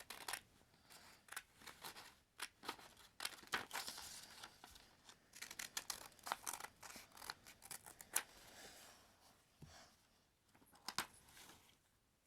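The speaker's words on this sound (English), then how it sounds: "So just cut a triangle shape onto your paper." Scissors snip through paper, cutting out a triangle-shaped wing for a homemade paper plane, with a quick run of close, crisp cuts and light crinkling of the sheet, no talking.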